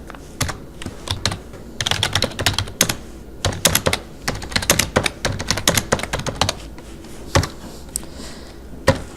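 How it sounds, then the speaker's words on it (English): Quick bursts of keystrokes clatter on a computer keyboard, uneven clusters of close, sharp clicks and taps with short pauses between words, no voices. "We type in factor."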